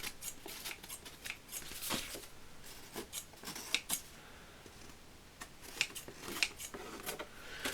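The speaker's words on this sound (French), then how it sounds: "Je vais passer un coup de ciseaux là pour que ça fasse plus propre." Scissors snip a paper birth card, quiet crisp cuts and rustling paper in an irregular series, close but faint, with no talking.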